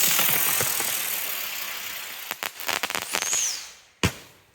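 Stargate brand consumer fireworks lit before New Year's, a long hissing, crackling spray that ends in a flurry of sharp pops and one loud close bang.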